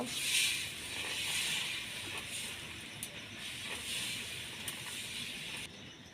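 A continuous bright sizzle of flour batter frying in hot oil for patishapta, steady and close, with a few faint clicks along the way.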